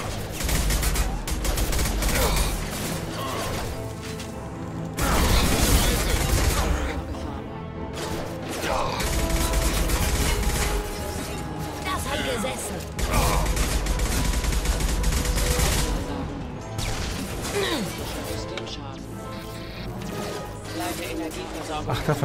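Heavy gunfire in the game Mass Effect 2, continuous bursts, crashes and impacts layered with music and effects, loud and dense throughout, with voices speaking over the combat.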